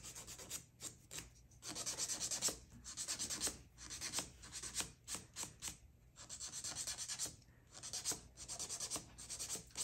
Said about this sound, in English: I file with two things, a nail file and an electric drill.